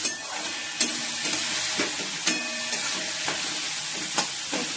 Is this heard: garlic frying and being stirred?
yes